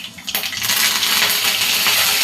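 Cumin and mustard seeds hit hot oil in a pan while making kanda poha, setting off a loud, steady sizzle and crackle that starts abruptly and keeps going, close up, with no talking.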